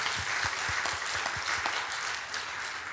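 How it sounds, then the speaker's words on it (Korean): A church congregation at a Sunday service claps together in steady applause, a soft, even patter of many hands with a few heavier, rhythmic claps standing out near the front. "우리 감사하고 위로하는 박수를 하겠습니다."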